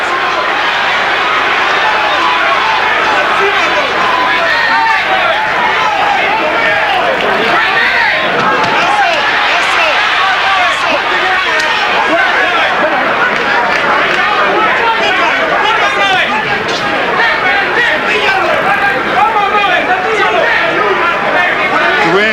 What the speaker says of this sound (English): Now you can hear the crowd again.